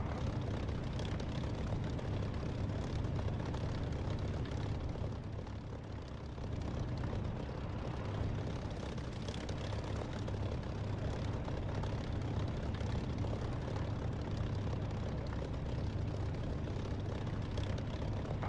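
Steady, continuous drone of a Spitfire's piston aircraft engine in the DCS flight simulator, loud and unbroken throughout, with no voices.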